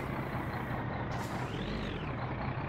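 Heavy truck in the driving game My Summer Car, a loud steady engine drone with an air-brake hiss mixed in, continuous and close throughout.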